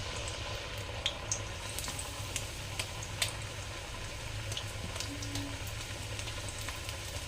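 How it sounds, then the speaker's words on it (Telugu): Sarva pindi, a Telangana rice flatbread, frying in a pan gives a steady low sizzle and bubbling hiss throughout, with occasional faint pops and clicks. "ఇది కొంచెం వేగాలి."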